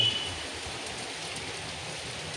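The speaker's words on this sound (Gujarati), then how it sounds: "મસ્ત વરસાદ આવે છે" Heavy rain falls steadily in Surat, a dense, continuous hiss of drops on surfaces with no letup and no talking.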